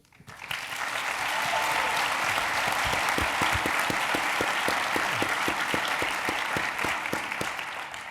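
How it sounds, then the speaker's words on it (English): Conference audience applauding the families of young leaders at the Brazil Conference 2019, a steady, dense wash of clapping that swells in and holds loud and close for the full stretch. "Let's give them a round of applause."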